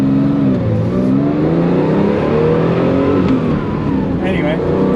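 A 1974 Porsche Carrera 2.7 with mechanical fuel injection revs hard at full throttle toward its 7,300 RPM redline, a loud, steady engine roar that rises and falls, heard from inside the car, with a voice speaking over it.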